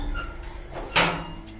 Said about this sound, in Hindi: दरवाज़ा खोल लिया।